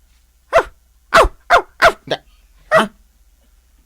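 A police dog barks six times, loud and close, in short sharp bursts at an uneven pace with brief silent gaps between them and no talk over it.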